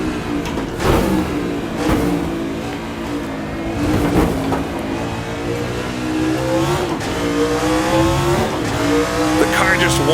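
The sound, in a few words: F1 race car engine on track, Assetto Corsa video game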